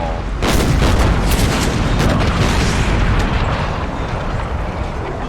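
Heavy ship cannon fire from a naval duel in Empire: Total War, deep booming broadside blasts rolling into a long, loud rumble that slowly fades.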